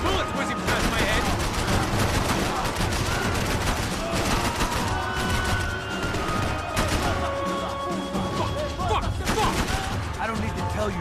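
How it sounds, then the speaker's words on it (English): Loud, dense gunfire rattles almost continuously in a Max Payne 3 firefight, bursts of shots layered with whizzing bullets and impacts, with voices talking under the barrage. "I can't concentrate with bullets whizzing past my head!"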